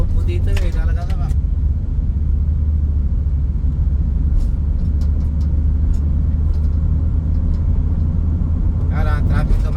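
Road traffic rumbling steadily from inside a vehicle on a busy street, a constant low engine drone with cars passing, while people chat over it at the start and end.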